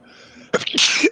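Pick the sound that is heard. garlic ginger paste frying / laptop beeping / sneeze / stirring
sneeze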